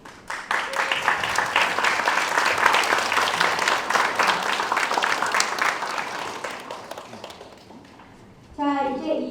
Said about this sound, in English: A big round of applause and thank you once again.